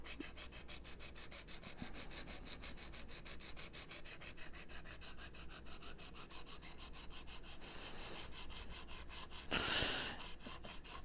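A knife blade rasps against the stone of a Smith's precision sharpening system in quick, even back-and-forth strokes, a close, quiet, regular scraping with one brief louder scrape near the end.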